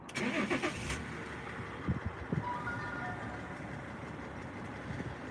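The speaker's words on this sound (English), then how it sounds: "I'm just going to turn my engine on for a minute" A car engine cranks and catches with a few rough bursts on a cold day, then settles into a steady low idle nearby.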